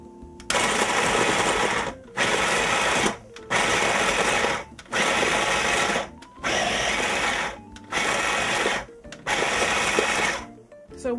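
Kitchen blender spinning beef soup vegetables in seven loud bursts, each about a second long with short pauses between, close and harsh, with no talk over it.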